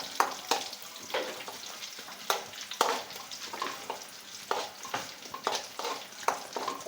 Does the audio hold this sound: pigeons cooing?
no